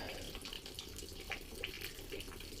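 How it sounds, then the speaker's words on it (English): Water dripping off a rock ceiling in the Grand Canyon, falling in a steady scatter of small, faint patters over a low outdoor hiss, with no collection pool to catch it. "So you gotta catch the drips as they're coming down."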